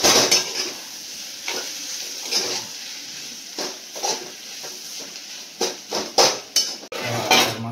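A spoon scrapes and clinks against a pan while a salted vegetable curry is stirred, irregular knocks and scrapes close by, growing busier toward the end, with a faint sizzle underneath.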